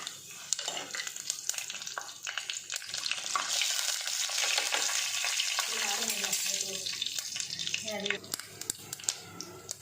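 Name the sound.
mustard seeds, dried chili and whole spices frying in oil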